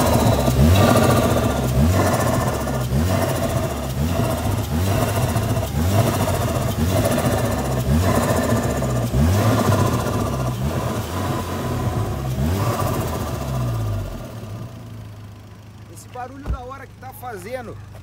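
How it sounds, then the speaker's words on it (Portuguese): A Volkswagen Jetta GLI of about 300 horsepower, fitted with a Haustec intake and a sport exhaust, runs a sustained engine note with a rhythmic rattling hiss, loud and close, fading near the end as a voice speaks. "Fazendo como se fosse uma cascavel. Isso aqui é o intake em ação."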